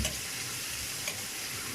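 Pork for adobo sizzles steadily in a hot pan, a dense continuous frying hiss with faint crackles and no voices.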